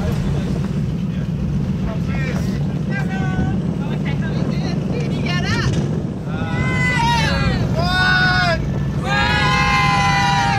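A dive boat motor drones steadily over rushing wind and water in strong wind and swell off the Cayman Islands, while people talk in bursts during the second half.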